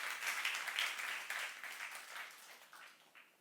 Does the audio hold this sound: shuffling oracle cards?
no